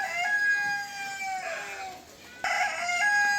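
Large chickens on a farm in Germany, clucking and crowing in drawn-out, tonal calls that rise and fall, several birds overlapping at close range with no voices.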